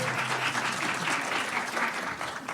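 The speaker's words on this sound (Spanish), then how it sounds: "Si pueden brindarle una ofrenda de palmas para presentar" An audience at a nutrition and geriatrics congress applauds warmly to welcome a presenter, a continuous, even wash of clapping from a sizable crowd filling the room, with no speech heard.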